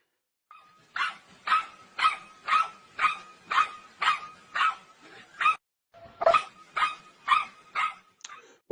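A dog barks repeatedly in a steady, evenly spaced series of sharp, fairly close barks, with a brief pause before the barking resumes at the same pace.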